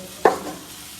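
Ginger, garlic and onion sauté in a pan: one quick stirring scrape or clink of the utensil, then a low, faint sizzle carrying on underneath.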